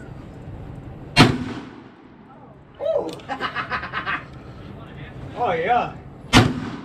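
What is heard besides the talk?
black powder six-shooter revolver gunshots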